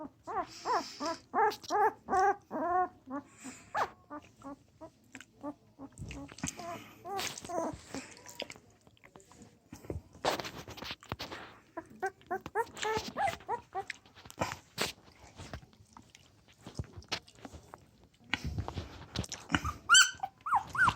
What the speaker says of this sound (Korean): 제일 먼저 으르렁거리는 놈